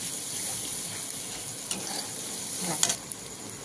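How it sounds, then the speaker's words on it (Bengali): Spices with turmeric powder sautéing in a pan, a steady close sizzle and frying hiss with a few sharp scrapes of a spoon near the end. "দিয়ে দিচ্ছি পরিমাণ মতো হলুদ গুঁড়ো। এবার এটাকে কষা হবে"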